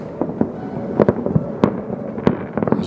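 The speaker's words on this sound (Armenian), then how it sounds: "Զեյթունում հրավառություն է" New Year's fireworks over the Zeytun district of Yerevan, on a night of light snow, burst in a series of sharp, echoing bangs at moderate distance, with quicker crackling pops near the end.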